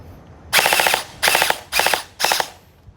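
An LKCJ M4A1 gel blaster toy gun firing in four short full-auto bursts, each a rapid mechanical rattle of about half a second with brief quiet gaps between, loud and close.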